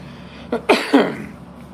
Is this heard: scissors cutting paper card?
no